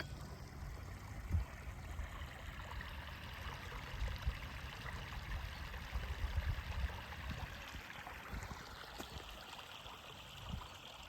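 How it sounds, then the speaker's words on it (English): Hilton Creek flows with a faint, steady rush and trickle of water over stones, continuous and soft throughout with occasional low thumps. "This is Hilton Creek."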